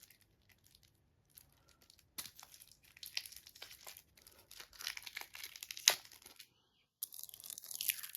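Board game cards for The Hunt being unwrapped, close crinkling and tearing of plastic wrap in irregular bursts with short quiet gaps, fairly faint overall.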